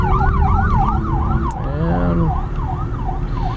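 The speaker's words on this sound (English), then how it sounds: "We'll go ahead and pull over here for the ambulance." Ambulance siren wailing loud and steady in a rising-falling sweep, heard from inside a 2011 Volvo XC60 FWD SUV as it pulls over, with traffic rumble beneath and a brief word spoken.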